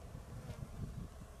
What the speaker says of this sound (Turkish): arılar